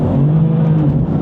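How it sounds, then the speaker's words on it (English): A 2018 BMW M4 CS on a British B road makes a loud, close, sustained engine drone from inside the car during a hard launch with a bit of wheel spin, with no talking. "Obviously a bit of wheel spin, F-Series cars always struggled with that."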